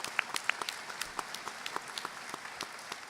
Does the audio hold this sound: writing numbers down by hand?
no